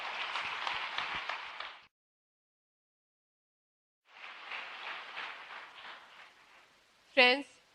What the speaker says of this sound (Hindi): तो एक बार जबरदस्त तालियों के साथ फिर से स्वागत करेंगे मेरी मिस यूनिवर्स मीनाक्षी राणा।